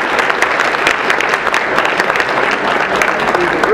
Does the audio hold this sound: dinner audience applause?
yes